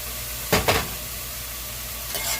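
Food in a pan, steady sizzling frying hiss throughout, with a couple of brief scraping stir strokes near the start and another faint one toward the end.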